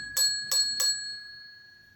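A ring-for-service desk bell is struck three times at an even pace, each bright metallic ding ringing clearly and close before the last one fades out slowly into quiet.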